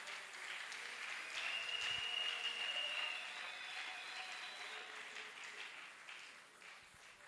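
A church congregation at a worship service applauds in a steady, soft wash of clapping, heard at a distance and fairly faint, swelling slightly then easing off.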